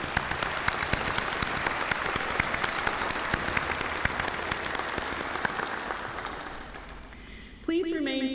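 Sustained audience applause for the concert band at an Honors Day ceremony, a dense steady roar of many hands that fades toward the end before a voice begins speaking.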